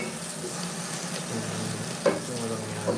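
Ingredients for a mung bean dish sizzle in a pot as they are roasted and stirred with a wooden spoon, a steady frying hiss with a couple of soft scraping knocks, close by and without speech.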